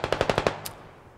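A rapid burst of about six automatic gunshots from a player's weapon in a military video game, crisp and evenly spaced, followed by a brief trailing echo into quiet.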